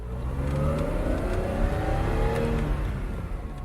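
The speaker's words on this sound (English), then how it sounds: "This car's gonna purr." A car engine purrs steadily and then revs up, close and loud, a rising and falling engine drone running throughout with no one speaking.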